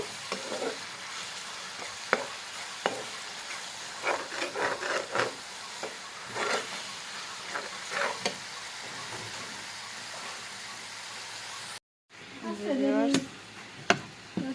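Food being stirred and sautéed in a pan, a steady sizzle with repeated scraping strokes of a utensil, close and continuous, with a brief break before more stirring near the end.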